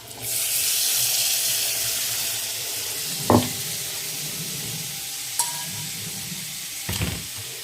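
Spice paste of Kashmiri red chili powder mixed with water, tipped into a hot pan and bursting into a loud hiss that keeps sizzling steadily, with a few clanks from the pan and spoon.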